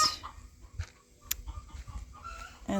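Chickens clucking around the back of a chicken coop on a rural Vacaville, California property, with scattered soft clucks and one short sharp squawk over outdoor ambience.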